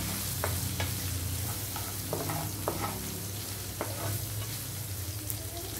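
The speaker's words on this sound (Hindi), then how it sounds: "डालेंगे हल्दी, अच्छे से सॉटे करेंगे।" Capsicum sautéing with turmeric in a pan, a steady soft sizzle with occasional scraping stir strokes, fairly quiet and close, no talking.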